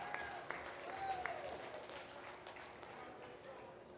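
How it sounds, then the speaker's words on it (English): Applause from a fair audience for goat show placings at a state fair market and breeding judging, a quiet, steady patter of hands heard from a distance for several seconds. "Let's give them all a nice round of applause"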